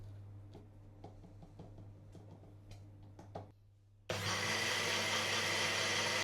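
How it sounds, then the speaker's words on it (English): A countertop blender starts up abruptly partway through, mixing a protein shake made with high protein milk and protein powder, running as a loud steady whir after a stretch of quieter kitchen ticks and taps. "I'm actually very happy with the volume at which that thing blends compared to the NutriBullet that I had previously."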